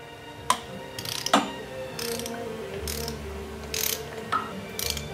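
A torque wrench ratchets while tightening the oil adapter bolts to 60 inch-pounds on a Harley-Davidson Twin Cam or EVO 3.0 UltraCool oil adapter, working in a star pattern. Several short, quiet bursts of clicking are separated by pauses, with no voices.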